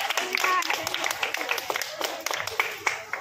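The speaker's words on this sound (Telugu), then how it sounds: "గట్టిగా గట్టిగా చప్పట్లు కొడదాం" Church congregation applauding at a second-anniversary prayer service, a continuous dense patter of clapping that stays steady throughout, with some speech mixed in underneath.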